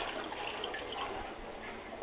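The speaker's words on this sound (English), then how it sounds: "You flush the toilet." A poorly working toilet in a cramped Orlando bathroom with plumbing faults flushes, producing a quiet, steady wash of swirling water that runs evenly without talk.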